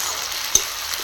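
Garlic paste fries in a pan for a chicken curry, giving a brief steady hiss of hot oil with one sharp utensil tap in the middle and no talking.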